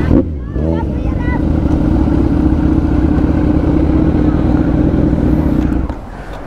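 A Kawasaki Z900 fitted with a very loud aftermarket exhaust rumbles with a deep, steady, close engine note for several seconds, after a brief voice at the start, then eases off.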